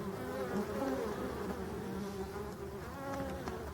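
Forest bees buzz around a beehive in late autumn, a close, continuous insect hum with small wavering swells and no voices.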